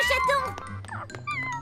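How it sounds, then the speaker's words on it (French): A small cat gives short meows close by, mixed in with a child-like voice speaking over it. "Bonjour, petit chat."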